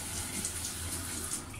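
Water pours in a steady stream while sprouted fava bean soup is being made, a continuous close splashing rush with no voices over it.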